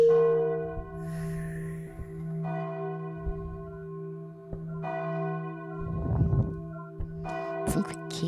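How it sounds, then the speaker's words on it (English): Church bells ring out in the video game Blind Survival, sustained tolling tones swelling and fading in several separate strikes over a steady low drone, with a few brief sharp clanks near the end and no talking. "Maybe they are enchanted by the sound of the church bells."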